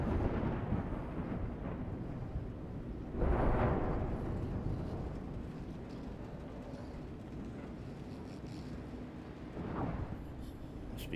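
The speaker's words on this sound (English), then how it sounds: "Must be nice to be able to sleep through that storm." Thunderstorm rumbling in the video game Indiana Jones and the Great Circle, a steady low storm wash with two heavier thunder swells, one near the start and a fainter one toward the end, no talking.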